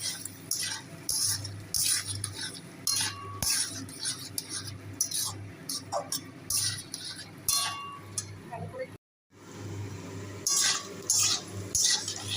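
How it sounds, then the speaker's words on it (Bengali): Gobindobhog rice being stirred and fried in a pan with browned onions, heard as a steady run of close metallic scraping and clinking of a utensil against the pan over a low hum, with a brief break near the end. "চালটা একটু ভাজা ভাজা করেছি এবার"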